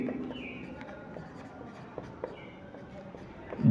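A pen or marker writing a physics equation by hand on a surface during a Hindi-medium rotational motion lesson, heard as faint scratches and light taps at close range, with a brief louder bump at the very end.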